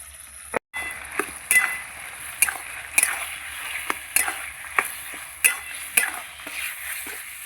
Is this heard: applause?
no